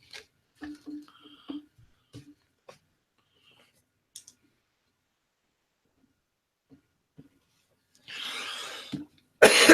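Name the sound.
coughing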